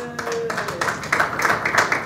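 A short burst of clapping breaks out after a voice at a city budget presentation, a few people applauding briefly and unevenly.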